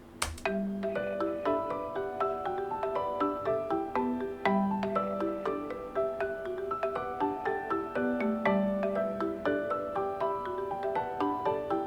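Bright mallet percussion rings out in steady interlocking patterns over sustained piano chords, a continuous layered ensemble at moderate volume with no voices.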